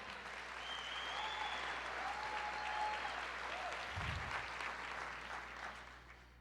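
Applause from a church congregation fills the space, a steady, diffuse clapping that holds for several seconds and then begins to fade.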